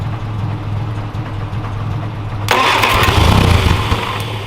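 A 1969 Reliant Regal engine cranks quietly, then abruptly catches and runs with a loud, rough, steady mechanical roar at close range.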